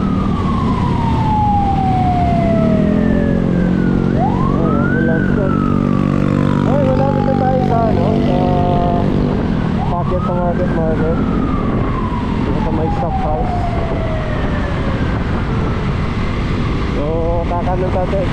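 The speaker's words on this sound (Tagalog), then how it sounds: "Ambulance doon." An ambulance siren passes along a city street, wailing up and down in long sweeping tones over steady traffic and engine noise, loud and close for most of the stretch.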